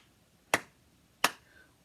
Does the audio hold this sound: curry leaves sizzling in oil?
no